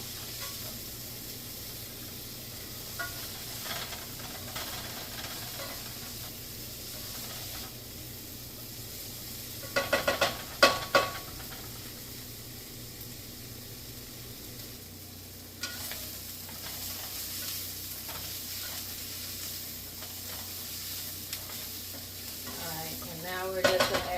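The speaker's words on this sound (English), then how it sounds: "Do this and get our onions translucent." Onions sautéing in a pot for a vegan one-pot lasagna, with a steady close sizzle and clusters of spoon scrapes and stirring clatter, louder near the middle and end of the stretch.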